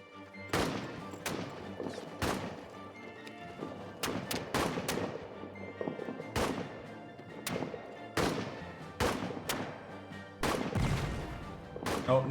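Suppressing rifle fire in the All Quiet in the Trenches trench-warfare game: a dozen or so sharp gunshots at irregular intervals, some in quick pairs, each cracking loud and close over a low background rumble.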